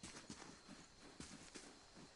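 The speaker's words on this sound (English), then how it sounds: "so it's just telling me that's a horse" Horse hooves clip-clop at a steady walking pace in the fantasy role-playing game Pillars of Eternity, with faint, evenly spaced hoofbeats on a quiet background.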